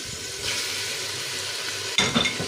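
Peppers and tomatoes going into a hot pan, a continuous sizzle that jumps up sharply near the end as they land and are stirred, with brief clinks of a utensil and no talk.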